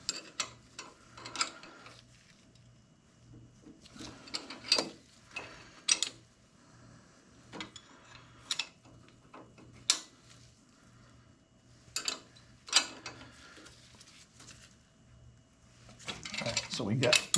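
A ratchet loosens the cylinder head bolts on a 1981 Harley-Davidson FXS-80 Lowrider in a star pattern, giving faint, irregular clicking bursts spaced a second or two apart over a quiet room.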